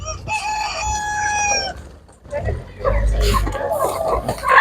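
A young hen gives a drawn-out call, then clucks and squawks nearby amid scuffling and background voices at an animal market.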